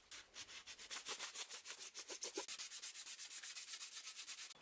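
A plastic brake light is sanded with coarse P80 sandpaper in quick, steady back-and-forth strokes, a close rhythmic scratching that repeats about seven times per second.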